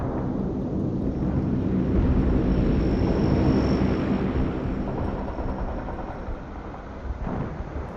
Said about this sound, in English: I order the cargo plane to drop my stuff on my drop zone.